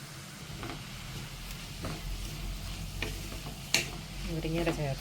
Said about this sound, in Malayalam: മുരിങ്ങയില ചേർത്ത് കൊടുത്തിട്ട് നമുക്ക് ജസ്റ്റ് ഒന്ന് മിക്സ് ചെയ്യാം.